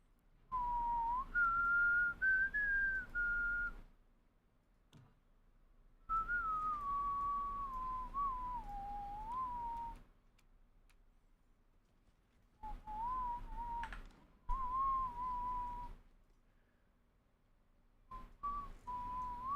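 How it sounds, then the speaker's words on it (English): A person whistles a wavering melody close to the microphone in phrases separated by short pauses, with breathy blowing noise into the mic and a steady low hum underneath. "Sorry if I'm blowing into the mic there with my whistle."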